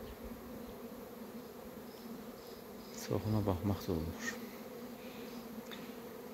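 Bees buzz steadily from a beekeeper's hives, a dense insect drone that continues throughout, with someone speaking briefly over it midway.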